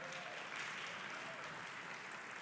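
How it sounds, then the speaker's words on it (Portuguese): Faint, steady applause from a church congregation, an even wash of distant clapping with no break. "Aplaudo o Senhor Jesus pela vida do Marcelo."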